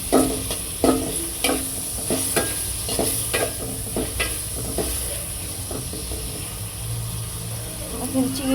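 Ginger-garlic paste fries in a pan with steady sizzling and repeated scraping stir strokes, fairly close, with some background voice faintly present.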